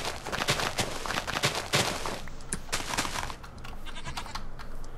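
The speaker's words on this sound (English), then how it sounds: "I'm gonna tame this goat." A goat in the Minecraft video game bleats several times, mixed into busy, dense game sounds that also carry sharp bursts like gunfire.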